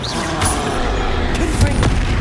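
In Hogwarts Legacy, a Confringo blasting curse sends out booming bursts. Loud rumbling impacts and sharp cracks come in quick succession, close and heavy, with a short voice heard briefly among them.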